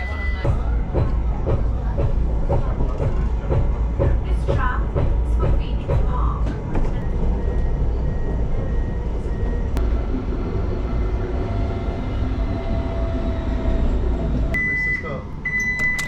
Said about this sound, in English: this is just the tram over to Nottingham Trent University, which is a really nice tram ride